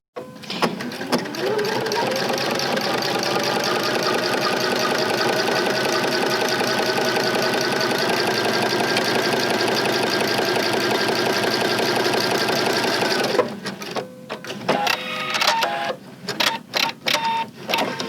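A sewing machine fitted with a non-stick foot stitches vinyl laid over leather in a fast, even, continuous whir that runs loud for about thirteen seconds, then stops and leaves scattered clicks and handling sounds.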